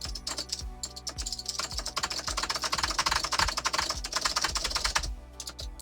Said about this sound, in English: listen to my clunky keyboard.